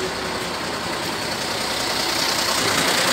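A green Fendt tractor runs on a dairy farm in Greece, its engine giving a steady, continuous drone with a broad noisy hum and no talking.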